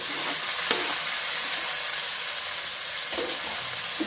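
Chopped tomato goes into a pan of fried onions for a Bengali rui fish malai curry, bringing a loud, steady sizzle with occasional scrapes of stirring; no voices.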